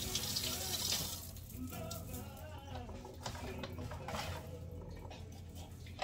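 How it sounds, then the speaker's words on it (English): Kitchen tap water runs steadily over fresh Italian parsley being rinsed in a sink while shrimp, tomatoes and onions are prepped, a continuous close splashing gush with no talk. "Rinse them off."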